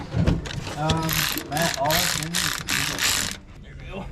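Ratchet clicking as it tightens a hose clamp on a 6.7L Ford F450 diesel engine during a compound turbo install, a run of close, busy mechanical clicks and scrapes with a voice talking over part of it.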